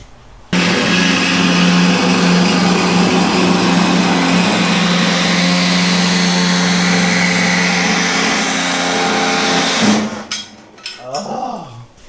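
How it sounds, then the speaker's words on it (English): An air saw cuts a small part on a Toyota Tacoma solid axle swap with a loud, steady high-pitched buzz that runs for about ten seconds before stopping, followed by faint clattering. "to cut this little thing, we're going to use our trusty air saw"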